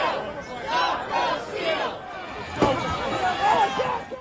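Rioters inside the US Capitol, some waving Trump and American flags from the balconies, cheer and shout as a dense, continuous crowd roar with overlapping voices and one sharp bang midway.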